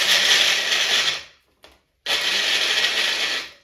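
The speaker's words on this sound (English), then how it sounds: "So I'm going to put them in the bullet, which is basically a food processor. And I want to chop these up." Two bursts from a bullet blender finely chopping food, a loud, steady high whir that runs for about a second, cuts out briefly, then starts up again for a second pulse.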